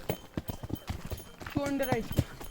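Hooves of a horse carrying a rider clip-clop in quick, steady beats on a hill trip to Nainital, fading as people talk over the ride.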